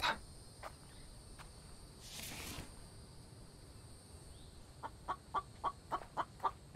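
Bird clucking in the survival video game The Infected: a quick run of about seven evenly spaced short clucks near the end, over steady low ambient game noise, with an earlier brief breathy burst.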